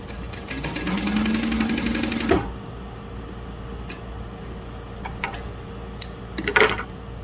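A Juki DU-1181N sewing machine stitches thin vinyl in a fast rhythmic whirring burst of about two seconds, then stops, followed by quiet handling clicks and taps.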